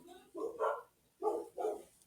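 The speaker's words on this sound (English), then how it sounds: "the dog's not happy about it" A dog barks outside, three short sharp woofs in quick succession with a brief pause between the first and the last two, fairly clear against a quiet background.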